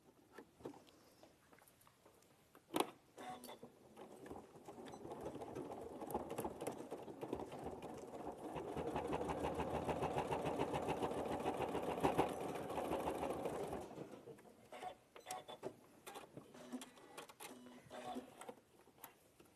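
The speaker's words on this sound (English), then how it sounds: "we're going to just top stitch 1/8 of an inch" A sewing machine top-stitches an eighth of an inch along the folds of a wallet during a live sewing session, running in a steady, fast, continuous whir for several seconds, with brief pauses and handling noises on either side.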